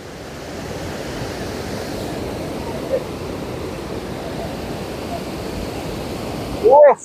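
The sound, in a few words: waterfall flowing at Bhatinda Falls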